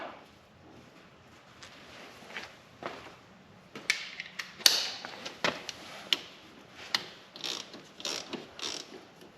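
A ratchet snugs up the fill plug on a Honda TRX250X ATV, with a run of close, rapid clicking pawl strokes that speed up and grow louder partway through.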